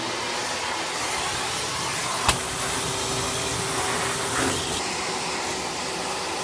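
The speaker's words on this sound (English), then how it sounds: "So I gotta get back on it with the shop vac." Shop vac running steadily in a flooded basement, its broadband roar sucking up standing water at a constant level, with one brief sharp click partway through and no talking.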